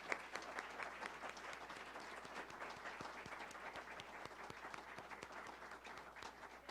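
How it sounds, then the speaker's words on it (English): Audience applause for candidates at a Wisconsin State Senate District 1 forum, sustained faint clapping from a modest crowd heard at a distance, steady throughout. "Please join me in a round of applause for our candidates."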